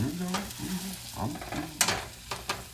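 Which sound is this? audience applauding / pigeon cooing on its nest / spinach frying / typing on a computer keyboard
spinach frying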